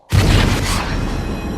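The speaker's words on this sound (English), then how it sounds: "There was an explosion" A deep explosion boom from a space-disaster movie trailer hits suddenly after a moment of silence and rolls on as a loud, sustained rumble that slowly thins without fading out.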